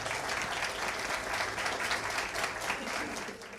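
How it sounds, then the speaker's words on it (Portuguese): Steady applause from a concert audience welcoming a percussion professor onstage before a marimba ensemble performance, a dense unbroken wash of clapping that carries evenly throughout and tapers slightly at the end. "Vamos recebê-lo com salva de palmas"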